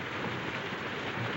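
Steady, dense rain falls continuously, a broad even hiss with scattered drop patter and no voices over it.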